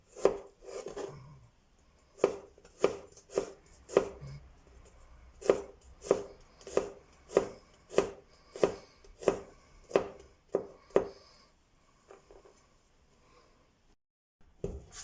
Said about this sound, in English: So I will start off by finely chopping